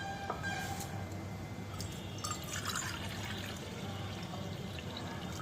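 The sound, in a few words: pouring water into a kadai for sugar syrup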